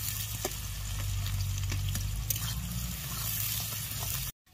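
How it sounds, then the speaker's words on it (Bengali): Chopped onions frying in oil in a pan until golden brown, a continuous dense sizzle with occasional stirring scrapes, ending abruptly in silence; no one speaks. "এবার এই পেঁয়াজটাকে বেরেস্তা বেরেস্তা করা অবধি পুরো ভেজে নিতে হবে।"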